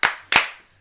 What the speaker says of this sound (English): I'm gonna clap it out